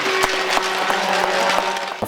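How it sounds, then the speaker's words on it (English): An arena crowd claps steadily for hockey player Mark Letestu at a ceremony retiring his jersey number; dense, continuous applause with sharp individual claps poking through, loud and close. "Give a nice round of applause to Mr."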